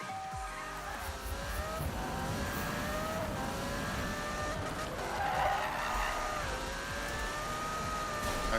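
Engine revving and tyres skidding in Need for Speed 2015, a loud, continuous racing-car roar with drawn-out screeching slides and shifting pitch throughout.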